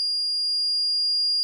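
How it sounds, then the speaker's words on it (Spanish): A Paradox security alarm sounds after the entry delay runs out, emitting a loud, continuous high-pitched electronic tone that holds steady without pause, with no one speaking. "Si no lo desconecto, ¿qué es lo que pasará? Saltará la alarma,"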